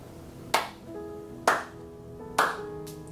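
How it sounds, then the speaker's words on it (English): Three sharp hand claps spaced about a second apart during a home prayer ritual, each crisp and close, ringing briefly in a quiet room, with a soft sustained tone humming underneath. "making 2 bows and 3 hand claps"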